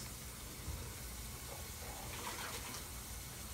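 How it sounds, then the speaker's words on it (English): A cup being rinsed under a running tap by a gloved hand, a steady gushing hiss of water, faint and continuous with slight splashing changes partway through. "I rinse this with my gloves on."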